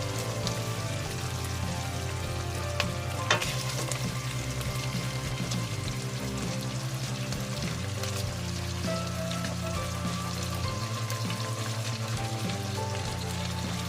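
Tomato sauce hits a pan of frying garlic and onion for Filipino menudo. A loud, steady sizzle hisses close up throughout, with no one speaking.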